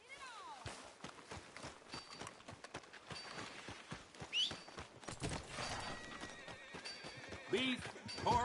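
A horse in the Red Dead Redemption 2 video game whinnies and clops its hooves amid faint, quiet game ambience, with a voice speaking now and then.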